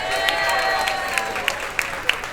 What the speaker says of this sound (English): Let's have a big round of applause for him,